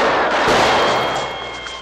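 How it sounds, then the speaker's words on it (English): Gunshots in the 1972 film The Godfather: a loud, close volley of sharp reports blending into a rolling crackle that fades slightly toward the end. "They just shot the Godfather?"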